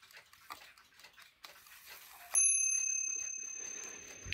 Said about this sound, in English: There's the little bell that it strikes on right here.